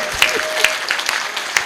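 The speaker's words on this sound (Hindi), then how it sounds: "हाथ खड़े करो और जोरदार तालियां बजाओ।" An audience claps at a comedy show by Pratap Fouzdar, with short, close applause and a few sharp individual claps standing out over the steady patter.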